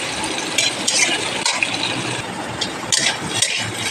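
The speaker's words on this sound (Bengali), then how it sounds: "এবার আলুটা একটু ভাজা ভাজা হয়ে যাক" Potato pieces fry in hot oil with five-spice seeds in a pan, giving a steady loud sizzle broken by scraping stirs and a few sharp clatters, with no voices.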